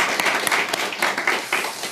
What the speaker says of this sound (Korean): 모든 일을 행하신 하나님께 영광과 충을 박수 올려드리겠습니다.